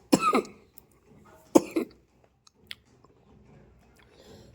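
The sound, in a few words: woman coughing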